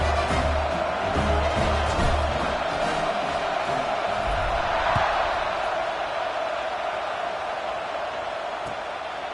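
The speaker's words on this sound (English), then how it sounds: "this crowd is buzzing after that last score" A dense, loud crowd roars and buzzes in a football stadium after a score at an Ohio State game, a continuous wash of cheering voices with scattered shouts throughout.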